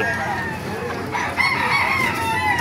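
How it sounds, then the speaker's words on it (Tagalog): A rooster crows nearby amid other chickens in Baliwag, Bulacan, Philippines, with a steady murmur of background noise throughout. "Ito yung mga manok ngayon dito sa Baliwag"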